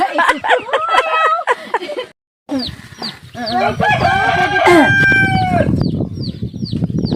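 A rooster crows loudly several times, mixed with hens clucking and other fowl calling close by, in Lagonoy, Camarines Sur, Philippines; a brief gap of silence breaks the sequence.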